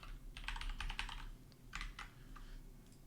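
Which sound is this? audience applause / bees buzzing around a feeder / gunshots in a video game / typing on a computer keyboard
typing on a computer keyboard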